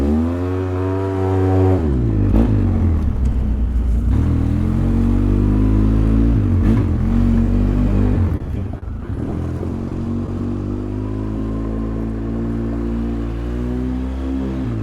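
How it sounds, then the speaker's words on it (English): A two-wheel-drive vehicle revs hard as its rear wheels spin, engine note climbing and dropping in loud, harmonic-rich surges with gritty clatter from the tires, briefly cutting out near the middle before settling into a steady high drone. "We should get some good wheel spin out of the back."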